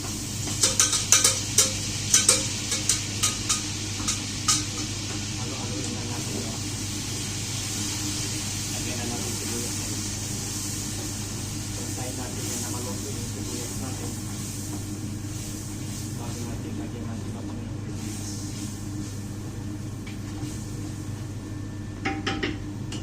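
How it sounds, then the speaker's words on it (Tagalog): Onions going into a hot cooking pan and being stirred, with scattered clinks and scrapes of a utensil against the metal early on, then a steady sizzling hiss under ongoing background noise. "lagyan na natin yung sibuyas natin dito natin"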